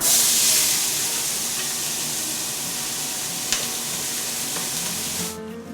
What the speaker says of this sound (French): Et là, on va venir ajouter nos légumes.